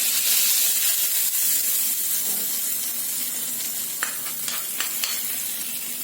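Hot crackling tempering poured over bajra amboli chutney in a home kitchen, a steady loud sizzle and hiss throughout with a few sharp pops and clinks near the end.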